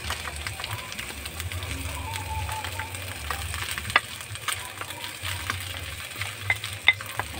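Rice is stirred and fried in a pan for fried rice, a soft continuous sizzle with scattered spatula scrapes and clicks, steady and moderately quiet under a low background hum.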